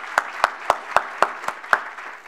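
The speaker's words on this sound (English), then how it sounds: "That applause is for a lot of you." Lecture hall audience applauding, a sparse round of distinct claps with roughly even spacing, fairly close and alone without talk.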